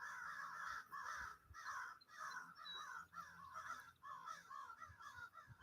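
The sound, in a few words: crows cawing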